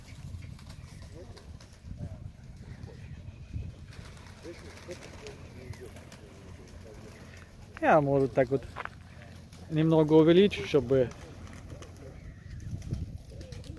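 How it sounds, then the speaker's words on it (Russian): Baku wide-tailed pigeons coo in two short, close bursts during a flock flight, standing out above a quiet outdoor background while someone talks on and off. "Сейчас нам будут показывать гон голубей."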